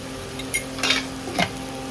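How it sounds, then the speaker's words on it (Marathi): Onion and tomato masala being stirred in a frying pan, a few distinct scraping strokes of a spoon over a steady low sizzle, close and fairly quiet. "चांगला परतून घेऊया."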